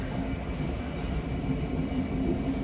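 A London Northwestern passenger train bound for Birmingham New Street approaches along a West Midlands line with a steady, fairly close rumble of wheels on rail and a faint high whine, and no talk.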